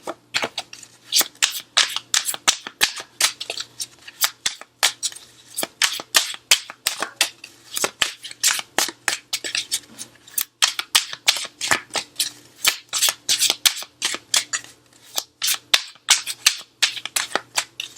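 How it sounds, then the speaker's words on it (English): Rapid riffling bursts of a new deck of cards being shuffled over and over, crisp flutters repeating in quick rhythmic bursts, close and alone. "These cards are so fun to shuffle. I love shuffling new decks."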